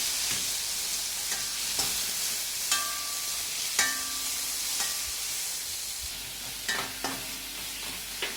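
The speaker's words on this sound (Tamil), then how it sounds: "ஒரு பெரிய வெங்காயம் கட் பண்ணியிருக்கேன், ஒரு தக்காளி, இதையும் போட்டு நல்லா வதக்கணும்." Chopped large onion and tomato sauté in a pan for a South Indian vegetarian dish, a constant sizzle broken by sharp clinks and scrapes of a spoon against the pan at irregular moments.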